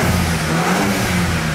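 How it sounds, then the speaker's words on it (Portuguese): A BMW Z4 sports car engine starts and revs loudly and steadily up close, a deep rumbling roar that holds for the whole moment with no voices. "E vamos dar as partidas aqui de novo. É sério, mano, que ronco louco que esse carro tem."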